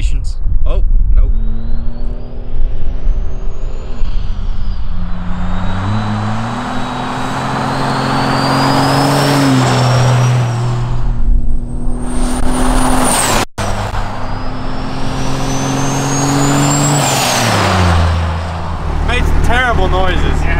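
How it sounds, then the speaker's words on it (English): A compound-turbocharged 24-valve Cummins diesel truck engine revs up and down in long, loud sweeps, with the rising and falling whine of the turbos singing over a deep, rumbling exhaust, close by. "the harmony of the turbos singing in sync just changes dramatically"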